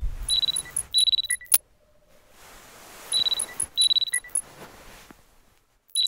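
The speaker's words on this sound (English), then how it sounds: "The alarm is ringing." A video game alarm clock rings in two bursts of rapid, high electronic beeping with brief pauses between, loud and close, and a faint click before the second burst.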